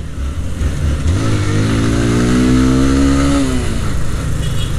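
A motorcycle engine passes close by, its pitch rising and then falling as it accelerates, loud over steady road noise.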